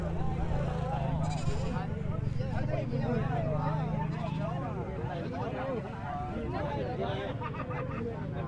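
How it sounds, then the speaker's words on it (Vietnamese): Goats bleating at a highland livestock market in Lao Cai, several wavering calls rising over a steady crowd babble and talk. "Đây những con dê,"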